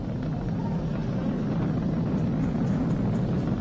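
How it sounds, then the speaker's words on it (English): Falcon 9 rocket with Merlin 1D engines climbing through supersonic flight during a launch, a steady low rumbling roar that holds constant and fills the whole stretch with no talk over it. "We've exceeded Mach 1 on the Falcon 9. M1D throttle up. We're throttling back up to full power"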